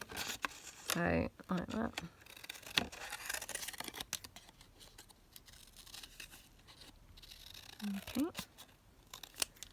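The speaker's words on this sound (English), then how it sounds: "let's cut out a couple from the postcard because I love how they looked" Scissors snip pieces out of a paper postcard, several short crisp cuts close by, mostly in a cluster near the start and again near the end, with paper handling between them and a person briefly speaking.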